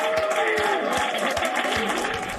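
NASA mission control team applauds the Perseverance rover's Mars landing, brief clapping and crowd noise with voices mixed in, loud and close over a couple of seconds.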